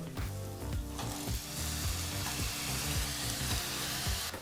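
Raw plantain pieces sizzle loudly in a hot oil tempering, a steady crackling fry broken by repeated scraping and stirring strokes of a spoon against the pan, close up and with no talking.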